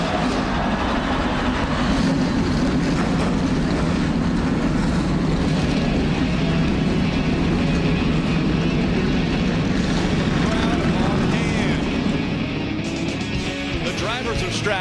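Thirty-six NASCAR trucks at the Daytona 2.5-mile superspeedway have just fired their engines and hold a dense, continuous roar. Crowd and public-address talk run over the engine noise the whole time.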